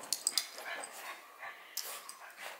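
A wet dog indoors, brought in from the rain and drying itself on a chair, whimpers and yips in short bursts, with sharp cries early on and softer whines after, close by.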